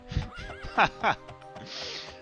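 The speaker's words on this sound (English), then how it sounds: "Hop on my trusty horse, Glue Boy." A horse in the 1996 PC game The Elder Scrolls II: Daggerfall lets out a loud, close whinny with quavering rises and falls, followed by a few soft hoof clops and a breathy snort.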